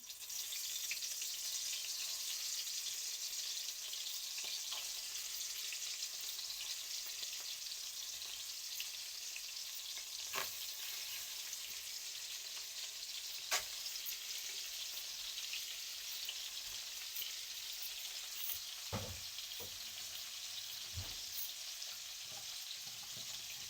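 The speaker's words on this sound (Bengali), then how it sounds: "আমি এখন চিংড়ি মাছটা হালকা করে ভেজে নেব" Steady, loud sizzling of turmeric- and salt-coated giant river prawns frying in oil fills the whole stretch, broken by a few scattered clinks and pops.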